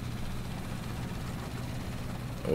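A tractor engine in Far Cry 6 labors with a low, rough, steady drone throughout, rising slightly in loudness at the very end.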